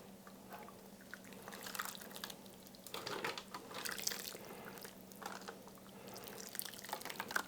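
A birria marinade mix is poured over a chuck roast, giving soft liquid splashes and trickling drips that come in uneven bursts, close and fairly quiet over a faint background hum.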